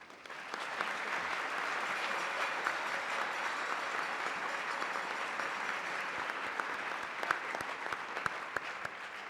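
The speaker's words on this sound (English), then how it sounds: "Please join me again in giving a round of applause to all of this year's scholarship winners." Audience at a 2014 award ceremony honoring scholarship winners claps in sustained, even applause with dense, overlapping hand claps that stay steady throughout, with no cheering standing out.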